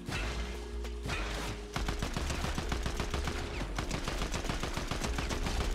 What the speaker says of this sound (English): I'm getting shot from someone down here.